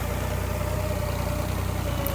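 A Hindustan tractor engine runs under full load, a steady, unbroken low drone with a constant throbbing pulse and no pauses.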